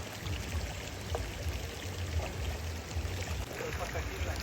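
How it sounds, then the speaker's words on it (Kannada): Water poured onto a small outdoor cooking fire gives a soft, continuous hiss and splash, low and fairly faint, steady throughout. "ಮತ್ತೆ ಇನ್ನೊಂದು ಸತಿ ಹಾಕ್ತಾ ಇದೀನಿ ನೀರು"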